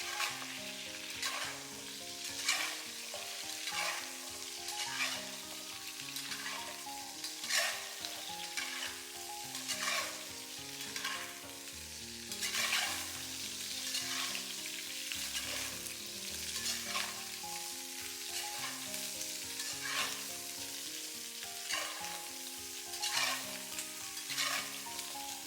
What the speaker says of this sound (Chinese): 大火給它翻炒一下，把豬蹄煎一下